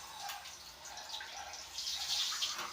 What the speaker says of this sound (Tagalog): Konting open lang muna ng tubig.